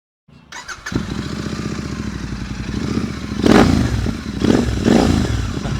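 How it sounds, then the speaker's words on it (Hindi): A Royal Enfield Interceptor 650 starts up and settles into a loud, close, thumping idle from its engine and exhaust, with a few sharp revs blipping the throttle partway through. "सो दोस्तों अब मैं आपको एग्जॉस्ट की आवाज सुनाता हूँ।"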